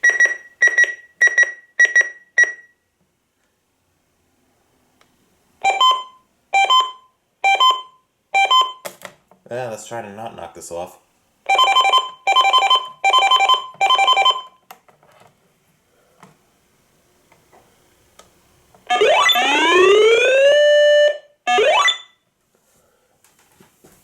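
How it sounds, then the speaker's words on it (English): Electronic alert tones from a weather radio: repeated sharp beeps in bursts, a warbling tone, then a rising sweeping siren, with a brief spoken remark between bursts. "So the siren on this is definitely amazing."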